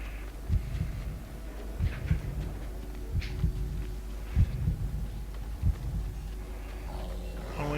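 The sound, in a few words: elk heartbeat in a video game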